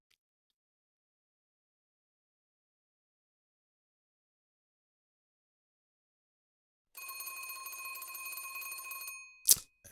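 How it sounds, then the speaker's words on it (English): A telephone in a pixelated noir small-town video game gives a sharp, bright electronic ring after long silence, lasting a couple of seconds before a click cuts it off. "That's a sharp ring. Okay."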